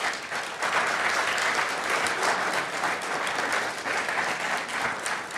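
Congregation at a Sunday worship service applauding steadily, a dense, sustained wash of many hands clapping that stays loud throughout after a brief softer start.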